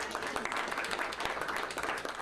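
A political team applauds as the state's vice-governor signs a new law, a steady patter of clapping from a small group filling the moment, close and even, with no clear talk over it.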